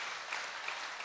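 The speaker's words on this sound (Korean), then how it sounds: "우리 박수 한번 쳐보세요." Congregation clapping at a church evangelistic meeting, a brief, even wash of many hands at moderate distance with no talk over it.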